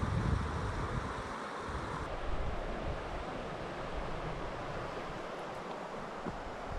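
Rushing water of rapids on the Koiva River, a steady broadband roar with no break, loud and close, with no voices.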